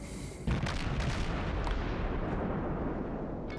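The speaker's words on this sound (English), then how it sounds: "I'll just continue firing at this Fuso now." Rapid naval gunfire from a USS Benson destroyer in the World of Warships game, targeting a Fuso battleship: a dense, continuous roar of booming shots and explosions, loud and sustained with no talk.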